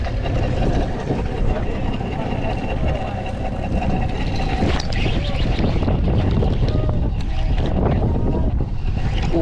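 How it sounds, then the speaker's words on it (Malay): Strong wind and choppy water surround a fishing boat at sea off Pulau Pisang, Pontian, a steady roar of broadband noise with an engine-like rumble beneath, continuous throughout as voices talk over it. "Angin semakin petang semakin kuat."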